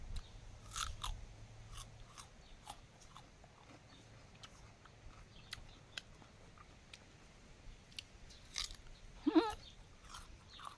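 Someone bites into and chews a crunchy pear outdoors beneath a walnut tree, with sharp crisp crunches repeating irregularly and close, separated by quieter chewing.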